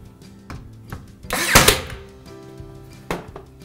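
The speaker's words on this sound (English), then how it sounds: "I just put that bottom nail in." Bottom nail going into a mitred timber architrave during installation, a sharp burst of nailing impact amid a few lighter knocks and handling thuds, close and without talk.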